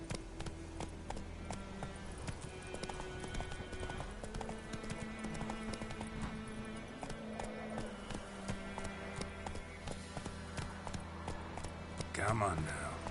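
Roach, the horse in The Witcher 3, gallops in a steady fast clip-clop of hooves that runs throughout, layered over game music and ambience.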